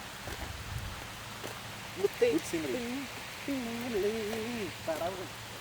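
Steady outdoor rain falls in a park in Darlington, a soft even hiss running under people talking nearby.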